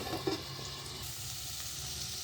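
Vegetables fry in a pan as the water cooks off, giving a steady, close sizzle with a few louder bubbling spurts at the start and no talk.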